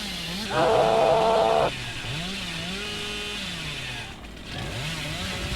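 A chainsaw revs in the video game Dead by Daylight, a loud sustained buzzing burst of about a second over steady game ambience, followed by quieter ongoing background sound.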